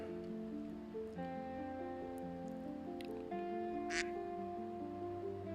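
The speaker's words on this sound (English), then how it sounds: "Why did I just hear rubber duck?" Faint squeaky rubber-duck tones play in shifting steady pitches, with a brief sharp squeak near the end.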